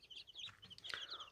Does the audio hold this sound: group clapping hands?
no